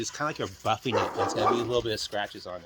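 A new, poorly trained dog next door barks in short repeated bursts behind someone talking close up, the barks mixed into and partly masked by his speech.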